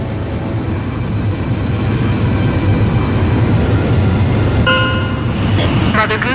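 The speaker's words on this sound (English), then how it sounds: "The transport plane is ready for an emergency landing." A transport plane makes an emergency landing in the Ace Combat 5 video game, a loud steady engine roar with rumbling, joined near the end by electronic beeping tones.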